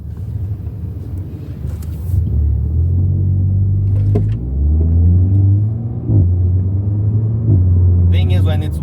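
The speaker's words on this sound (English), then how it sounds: "Right now, if I try and launch it, all you guys will see is a wheel spin." A 2009 Volkswagen GTI MK6 revs loudly nearby in a launch attempt with wheel spin, its engine note rising and falling in several surges over a deep rumble, while a voice talks over it.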